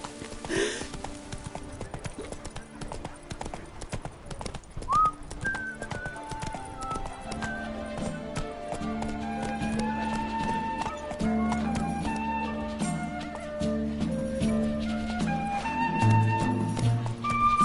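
Roach, the horse in The Witcher 3: Blood and Wine, gallops with steady rhythmic clip-clop hoofbeats close by, a brief whinny near the start, game music and ambience underneath.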